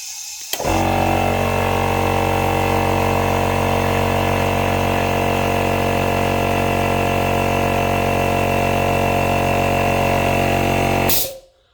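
An air compressor refilling its tank switches on abruptly and runs loudly and steadily at close range, a constant motor drone with a strong hum, then cuts off sharply after about eleven seconds.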